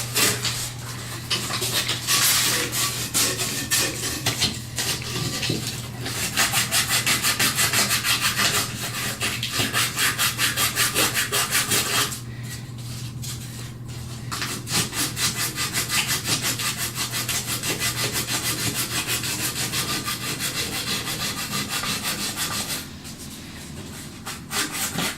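Steady close sanding of a copper pipe by hand with fine 220 grit sandpaper, continuous rapid back-and-forth rasping strokes that run nearly unbroken with a few short pauses.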